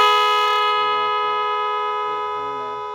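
A sustained, loud multi-tone vehicle horn blares continuously, its layered pitches holding steady as it slowly fades slightly.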